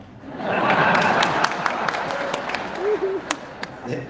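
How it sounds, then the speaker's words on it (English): An audience at a wildfire community meeting claps in a hall, a broad burst of applause that thins into scattered claps while voices and a bit of chuckling mix in. "They applauded for the last one."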